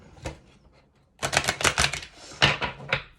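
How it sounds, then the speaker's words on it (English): Cards are shuffled in quick bursts of crisp riffling clicks, one short flutter followed by a longer, louder run, close by. "Do one more shuffle."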